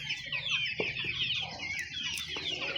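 Young chickens, large growing chicks kept for sale in Kashkadarya, cluck and cheep steadily at close range, with a dense chorus of high peeping over scattered lower clucks and no talk.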